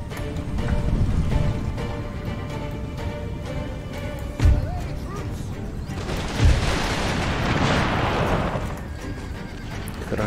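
Two brief, deep booms of distant cannon fire in Empire: Total War, each a sharp thump over a busy ambient rumble, several seconds apart.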